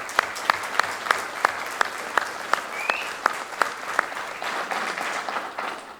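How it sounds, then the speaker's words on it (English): Audience applause for graduates at a high school graduation ceremony, a steady wash of clapping from a large crowd with a few sharp, distinct claps standing out, no speech over it. "Let's give our graduates a big round of applause."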